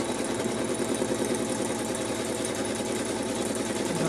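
A sewing machine stitches fabric for a bag, a steady, fast mechanical chatter running continuously at moderate level with no voices.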